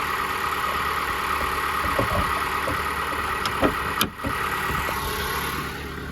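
Turbocharged 2.4-litre Toyota engine idles steadily, a constant mid-pitched hum with a faint whine on top and a brief dip near the end, heard alone and fairly close.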